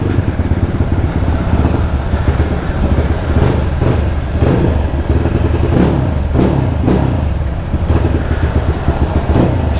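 A GazGas GE250 supermoto motorcycle engine running close and loud, a constant rough drone with repeated revving surges and some mechanical clatter, no voices.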